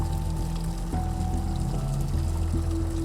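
Natural hot spring water boils hard along the Chilas to Gilgit route, a loud, continuous rushing and bubbling roar with no pauses from start to end.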